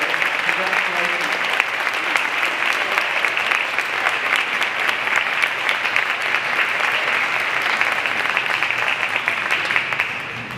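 Sustained, dense applause from a school assembly audience honoring third and fourth grade honor roll students at an end-of-year ceremony, steady and full for the whole stretch before tapering slightly at the end.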